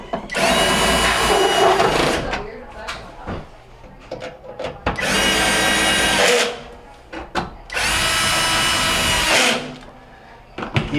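Power drill driving screws back into the housing of a Whirlpool dryer during repair, three loud sustained whirring bursts of about two seconds each, separated by quieter handling clatter and knocks.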